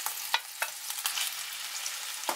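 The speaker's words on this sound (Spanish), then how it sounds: "en este mismo aceite sofreiremos la cebolla" Two diced onions sautéing in hot oil for an empanada filling, a dense, continuous close sizzle broken by a few sharp stirring clicks, with no voices.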